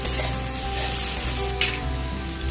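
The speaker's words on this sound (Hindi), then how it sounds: "अभी मेरा बीन्स जो है थोड़ा सा फ्राई हो चुका है।" Steady, loud sizzling of beans frying in a pan over a low gas flame, with occasional scraping stirs breaking through the continuous hiss, close up and without talk.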